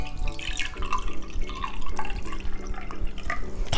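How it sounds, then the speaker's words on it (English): Water poured from a tap into a drinking glass for a kids' science experiment, a continuous trickling splash whose pitch rises as the glass fills. "I'm gonna fill this glass with water."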